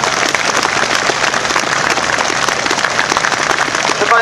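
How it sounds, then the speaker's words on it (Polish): A crowd at a memorial march claps loudly and continuously outdoors, a thick rain-like patter of many hands with faint murmuring voices mixed in, holding steady before a slight rise at the end. "Wielkie brawa!"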